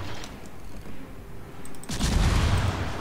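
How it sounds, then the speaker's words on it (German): Ship guns firing in World of Warships: rumbling heavy gunfire with repeated booms, a muffled stretch and then a louder, denser salvo rolling through the second half, with no talk. "Jetzt reicht's mit Schießen."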